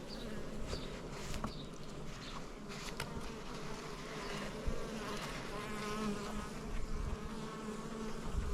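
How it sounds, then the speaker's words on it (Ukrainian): A dense swarm of bees hums continuously up close at an opened hive, a busy droning buzz with individual insects zipping past, no talking. "Потепліло в нас, бджоли ожили."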